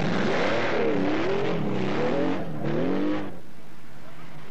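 A factory Porsche rally car in a 1984 rally roars close by, its engine pitch rising and falling through several loud revs before it drops away into a quieter background rumble.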